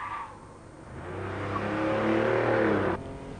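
A 1996 luxury car with the throttle floored on a test track, engine note climbing steadily under hard acceleration for about two seconds, loud and close, then cutting off abruptly, with no talk.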